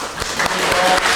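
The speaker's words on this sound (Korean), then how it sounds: "인사할 때 우리 박수로 축복하겠습니다" A church congregation claps briefly at a Sunday service, a dense burst of applause lasting about a second, fairly loud and close.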